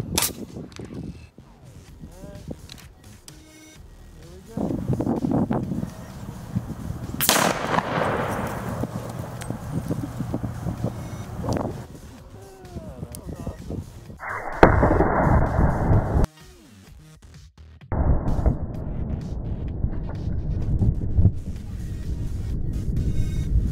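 Rifle shot striking a champagne exploding target at 100 yards in an outdoor setting: sharp booming impacts with a loud blast roughly midway, rumbling tails and several more bursts, over steady background noise.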